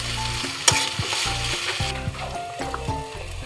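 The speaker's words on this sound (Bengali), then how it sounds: "এবার আমি আদা, টমেটো, রসুনের পেস্টটা দিয়ে দেবো।" A ginger, tomato and garlic paste sizzles loudly as it fries with browned onions in a pan for a Bengali mutton curry. The frying hiss is continuous, with scraping stirs and clatters throughout.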